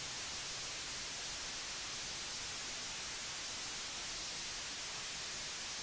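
Cassini spacecraft space recording, a steady, even hiss like static or rain on a microphone, continuous and unbroken throughout, fairly faint with no distinct events.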